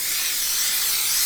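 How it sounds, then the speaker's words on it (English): A can of 3M 90 spray adhesive sprays in one short, steady burst. The hiss is close and loud, used while insulating a Sprinter van. "3M 90 spray adhesive"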